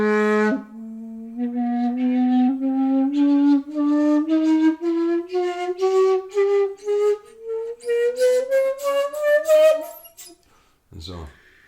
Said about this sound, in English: So you end up being able to play a full chromatic scale like this.